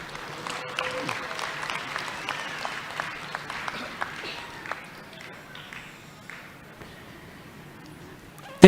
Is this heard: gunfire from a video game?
no